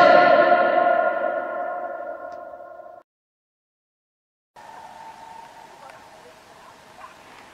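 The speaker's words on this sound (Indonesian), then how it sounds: "Yang slide berikutnya ini adalah contoh gaung dan gema" A loud shout rings out and decays over about three seconds into reflected sound, then after a silent gap a fainter, diffuse reverberant tail follows, demonstrating echo and reverberation.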